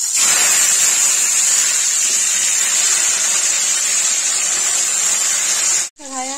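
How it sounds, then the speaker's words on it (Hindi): Mushrooms frying in hot oil in a kadhai make a loud, steady, close sizzling hiss that holds without a break, then cuts off abruptly near the end before a short burst of other sound. "पहले मशरूम फ्राई करेंगे। तेल गरम हो गया"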